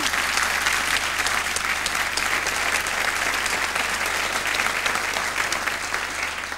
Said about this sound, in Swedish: ni var duktiga på att klappa händerna tycker jag